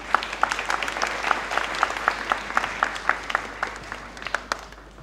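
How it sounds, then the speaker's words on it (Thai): A church congregation claps for two people about to share testimonies, a rhythmic, fairly close patter of hands with brief accented strikes that gradually thins out, with no talking over it. "ขอเสียงปรบมือครับ"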